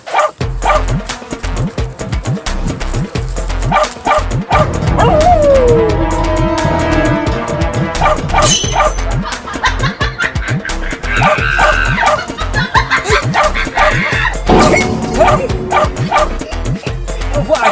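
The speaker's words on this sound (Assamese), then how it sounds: "কুকুৰ" A dog barks, yips and whimpers loudly and repeatedly in an Assamese comedy serial scene, with busy background music and some voices mixed in.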